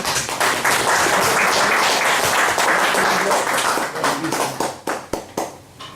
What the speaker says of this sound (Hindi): तो हम लोग उनका जोरदार ताली स्वागत करते हैं।